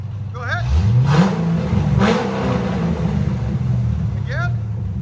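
A 2008 Corvette Z06 7.0L V8 fitted with headers and a Kooks exhaust blips twice with loud, close revs, then drops into a rough, burbling idle; brief squeaky tones appear at the start and end.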